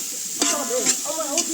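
Mustard seeds and garlic fry in a hot pan for a chicken sukka, giving a close, steady sizzle with a few sharp pops and stirring scrapes.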